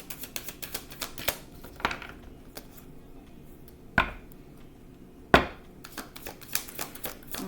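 Tarot cards, a little stiff, shuffled by hand in a run of quick, crisp riffling clicks and taps with a few louder snaps, close and clear with no voice over them.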